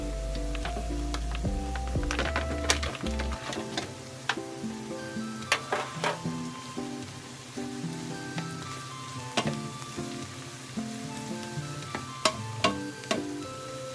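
Pork sizzling and frying in a pan for sisig with chili and onion, a steady crackle punctuated by sharp pops and clinks of a utensil stirring.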